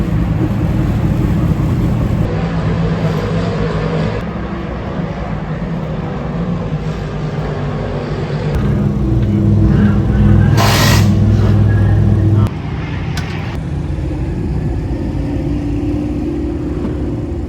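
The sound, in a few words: race cars at Airborne Park Speedway after checkered flag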